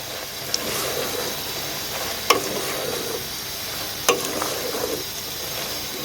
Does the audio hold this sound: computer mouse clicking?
no